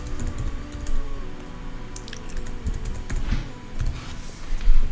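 Rapid, uneven clicking of a computer keyboard as text is typed into a design program, close and steady with brief pauses between bursts of keystrokes.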